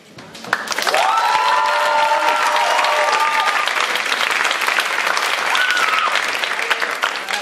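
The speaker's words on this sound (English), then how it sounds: "put your hands together and welcome Ugochi Nwaogwugwu" Steady, loud applause from a crowd fills the room to welcome a poet at a London teenage poetry slam, sustained from start to finish with a few cheers and voices mixed in.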